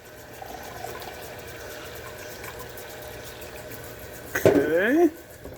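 Water pours steadily from a measuring cup into a cooking pot, a continuous even splashing rush, with a short burst of voice near the end.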